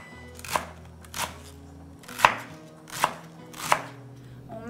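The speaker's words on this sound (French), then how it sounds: "Et je vais les couper à l'asiatique en biseau. Je vais faire la même chose avec mon céleri." Carrots and celery are sliced on the bias with a knife, five or six distinct, close chopping knocks spaced roughly a second apart, each crisp and loud against a quiet background.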